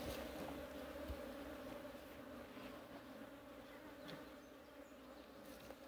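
Italian honeybees hum steadily inside a hive recently given a new queen, a calm, low, continuous drone that stays even throughout, close and fairly quiet, with no talking.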